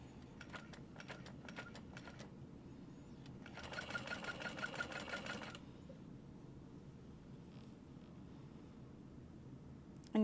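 A sewing machine stitches clear mesh for a Plover Pouch in short, steady bursts, pausing between runs, then one longer louder stretch of stitching before it falls quiet.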